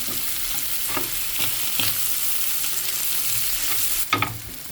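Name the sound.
stirring crab filling with recheado masala in a pan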